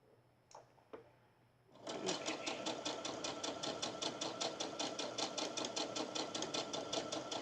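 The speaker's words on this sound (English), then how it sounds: "I'm fixing to sew my squares together." Fabric squares are sewn together on a sewing machine: a couple of soft handling clicks, then a loud, close, continuous run of fast rhythmic stitching that carries on to the end.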